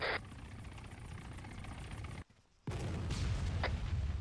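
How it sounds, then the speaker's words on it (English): A combat helicopter crashes in a video game: a loud, continuous rotor and engine roar with crackling, gunfire-like bursts cuts out briefly, then returns as a heavy, sustained rumble. No one speaks. "well, we're saying, guys, that combat chopper crash"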